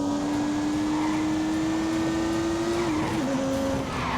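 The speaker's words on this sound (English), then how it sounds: "No turbo lag at all as he hammers down the bumpy back straight towards substation" BMW M2 accelerating hard down a bumpy back straight on a test track, a loud continuous engine drone rising steadily in pitch with a brief dip from a gear change near the end, no voices.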